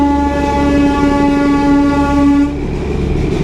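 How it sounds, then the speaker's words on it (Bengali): The Darjeeling toy train passes close by, its loud sustained horn blaring steadily over the rumble of the wagons before cutting off, leaving the rolling rail noise fading. "তো এই হচ্ছে টয় ট্রেন।"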